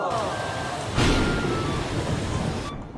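Heavy rain pours down in a loud, dense, unbroken roar that fills the whole stretch, with a voice faintly audible underneath.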